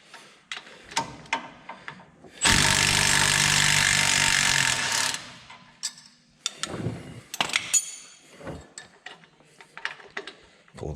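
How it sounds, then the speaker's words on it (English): A power tool whirs loudly for a few seconds while removing a shock absorber bolt on a heavy duty Dodge Ram 2500/3500, followed by scattered metallic clicks and clanks of wrench and socket work nearby. "It got an 18 millimeter wrench on the back side and a 15 millimeter socket on the front."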